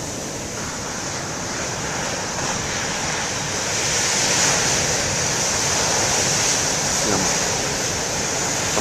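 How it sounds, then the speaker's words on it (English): Ocean surf crashing in heavy, continuous rolling waves on a day of huge swell, with strong wind buffeting the microphone into a steady roar throughout, no voices. "I like the sound of the waves"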